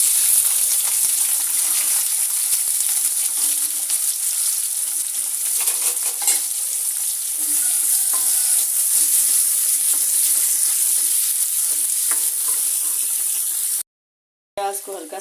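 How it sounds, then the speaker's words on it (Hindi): Onions frying in a pan, a loud, steady, bright sizzle with occasional stirring scrapes, close by and continuous until a brief cut near the end. "मैं करूँगी प्याज फ्राई"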